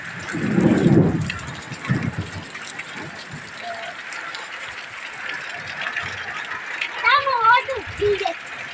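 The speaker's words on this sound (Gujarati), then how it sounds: "પહેલો વરસાદ તો સારો સારો વરસ્યો" Heavy rain of the season's first downpour hisses steadily with a storm, while a low rumble of thunder rolls early on; voices talk over the downpour toward the end.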